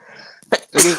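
A single sharp sneeze bursts out close by at a basketball watch party, preceded by a brief intake of breath.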